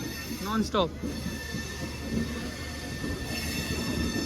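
The Vikramshila Express leaving the station, its rolling wagons making a steady rumble with faint wheel squeal. A short, sharp horn-like tone sounds early on, and a voice speaks briefly over it.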